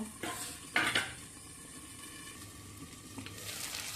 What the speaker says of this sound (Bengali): মিশিয়ে হাই ফ্লেমে নেড়ে নিয়ে এবার আঁচটা একটু হালকা করে নেব